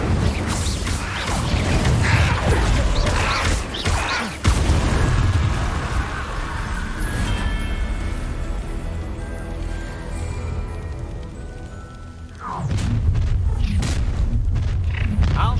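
Spells are cast in Hogwarts Legacy with loud booms and explosive bursts, a sustained roar of magical effects and rumbling, then a fresh blast near the end, while a player speaks over the action.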